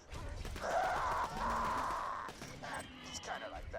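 A voice imitates the death noise of an exploding stalker creature from Borderlands 2, a drawn-out warbling squeal with a second shorter wail after a breath, close and clear.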